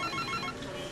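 A telephone rings in a busy animal shelter office, a steady, continuous electronic ring with no voices over it.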